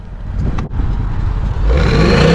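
Ford Mustang GT 5.0 V8 from 2020 with its exhaust set to quiet mode, a steady, close engine rumble that briefly dips before a slight rise in revs.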